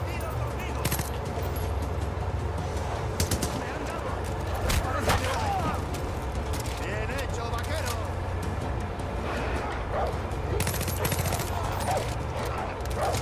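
Machine gun fire and scattered gunshots in Far Cry 5 rattle on through a dense, noisy combat scene, with an ally carrying the machine gun and many enemies around, while a voice talks over the fighting.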